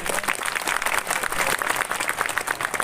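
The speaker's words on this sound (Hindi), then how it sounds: "एक बार पुनः ताली बजाकर स्वागत" A crowd at an Indian political nomination rally applauds to welcome a guest, with dense, loud clapping that surges in waves and keeps going without a break.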